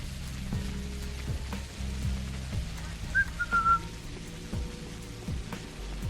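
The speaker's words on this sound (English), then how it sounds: "I apologise for whistling." A person whistles a short melodic tune over a backdrop of steady rain and low droning game ambience, the whistle bright and close in the middle of the stretch.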